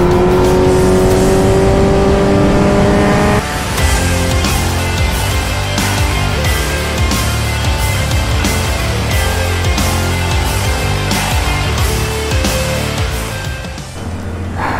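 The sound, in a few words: Kawasaki Z900 inline-four superbike with Arrow full exhaust system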